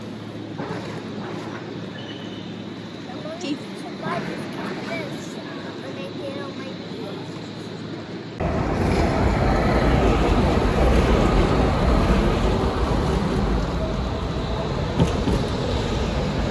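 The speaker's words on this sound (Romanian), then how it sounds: "Ce se aude? Tramvaiul, mami, dragă. Tramvaiul." A tram passes along a street in Zagreb, its low rumble swelling abruptly to a loud, close, steady roar halfway through while people talk nearby.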